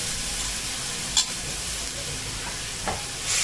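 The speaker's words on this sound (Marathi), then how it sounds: "टोमॅटो पण चांगलं परतून घेतो।" Tomatoes being sautéed and stirred in a pan for a Maharashtrian chickpea usal, with a steady low sizzle and a couple of brief scraping stirs, close and moderately quiet, with no voices.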